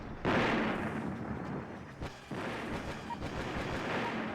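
Dense battle noise from the Battle Engine Aquila video game: rolling explosions and gunfire blend into a continuous loud rumble, with a brief dip around the middle before the barrage resumes.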